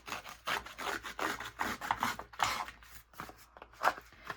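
Lapbook paper corners get roughed up with a small handheld distressing tool, giving short, repeated scratchy rasping strokes in an uneven rhythm, close and moderately quiet.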